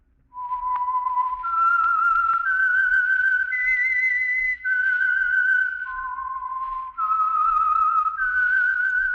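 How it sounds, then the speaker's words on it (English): A lone whistler carries the eerie, clear theme of The Whistler radio program, a slow melody of sustained pure notes stepping up and down, fairly quiet and with no talking. "That whistle is your signal for the Signal Oil Program, the Whistler."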